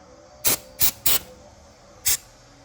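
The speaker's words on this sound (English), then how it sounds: "I'm just gonna spray a little bit of brake clean, not too much." Four short, sharp bursts of aerosol brake cleaner hiss out close by onto a Holley Dominator carburetor, three in quick succession and one after a pause.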